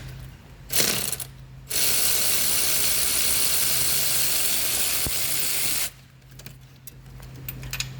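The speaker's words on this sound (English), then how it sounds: "Engine, electrical snap on, 3/8 ratchet, taking bolts off around here." A Snap-on 3/8 ratchet backs bolts off a 2007 Buick Terraza 3.9 liter engine, one long steady stretch of rapid pawl clicking, close and loud, framed by shorter bursts before and after.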